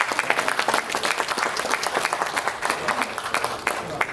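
Sustained audience applause at an award ceremony, many hands clapping steadily and densely throughout, loud and close without a break.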